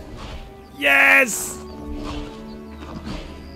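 In the Jurassic World Evolution video game, a dinosaur catches and eats a goat, giving a short, loud animal cry with impact noises. A man cheers briefly over the game sounds.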